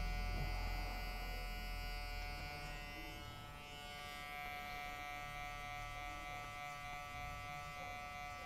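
Two-speed electric hair clippers fitted with a number 1 guard buzz continuously at close range, a steady motorized drone that dips slightly in level partway through, with no talking.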